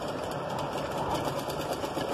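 A sewing machine stitches piping onto a boat-neck garment with a continuous, even whirring hum that stays close and steady throughout.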